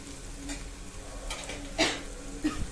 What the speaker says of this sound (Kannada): ಚೆನ್ನಾಗಿ ಟೊಮೆಟೊನೂ ಹಾಕ್ಕೊಂಡು ಫ್ರೈ ಮಾಡ್ಕೊಳ್ಳಿ ಚೆನ್ನಾಗಿ